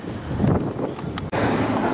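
Steady broadband wind rushes across the microphone outdoors in Amsterdam, loud and continuous, with a brief dropout partway through before the gusting noise resumes at full strength.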